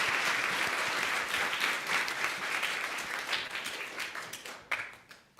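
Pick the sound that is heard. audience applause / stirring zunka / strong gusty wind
audience applause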